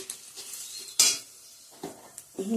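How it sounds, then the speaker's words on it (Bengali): Onion, dried red chilli, bay leaf and whole cumin tempering in hot oil for a Bengali egg curry, with a soft steady sizzle broken by a sharp clatter of a utensil against the pan and a few stirring scrapes. "ডিমের ঝোল রান্নার জন্য আমি ফোড়ন দিয়ে দিয়েছি এখানে পেঁয়াজ, শুকনো লঙ্কা, তেজপাতা আর গোটা সাদা জিরে"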